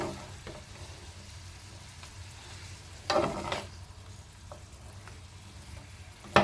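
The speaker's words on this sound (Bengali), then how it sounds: "এটা দিয়ে একটু নেড়ে চেড়ে আবারও ঢেকে দেব।" Drumstick stems fry in a covered pan with a steady, soft sizzle, and a spoon stirs them in a few brief louder bursts. No one speaks.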